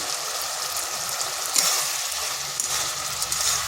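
Fried potatoes tumbling into a cooked-down spice and tomato mixture in a hot pan, giving a bright, continuous sizzle with a few soft knocks as they land and settle.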